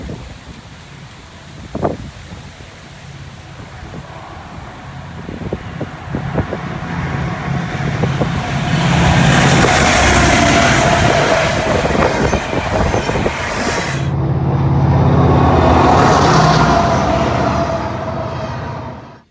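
A Norfolk Southern freight train with AC44C6M locomotives passes close by in autumn, a building rumble and roar of wheels and cars with wind buffeting the microphone, peaking, briefly easing, then surging again.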